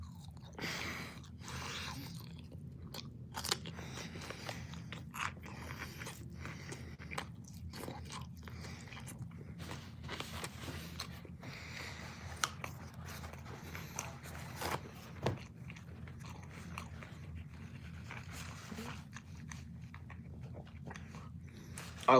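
Loud, close chewing and crunching of food while eating, steady wet bites and crunches repeating throughout with no talking.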